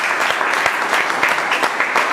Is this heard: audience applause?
yes